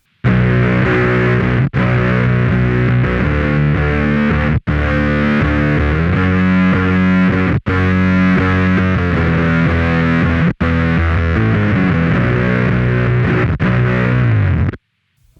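Electric guitar through a Microsynth synth pedal, played cleanly with unwanted notes muted, giving a loud, thick, buzzy synthesized tone that holds steadily for several phrases with a few short pauses between them.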